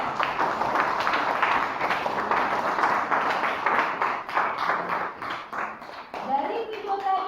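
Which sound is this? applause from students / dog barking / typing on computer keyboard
applause from students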